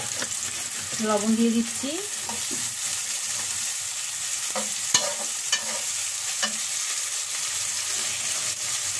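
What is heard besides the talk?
lentils and onion sautéing in a pan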